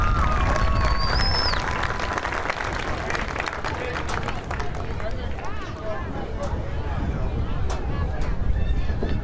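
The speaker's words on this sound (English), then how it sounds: "can I have one more round of applause for our seniors tonight?" High school football crowd applauding seniors at a Corry Beavers versus Fairview Tigers game, a sustained outdoor wash of clapping and cheering with whistles and shouts, an announcer speaking over the stands.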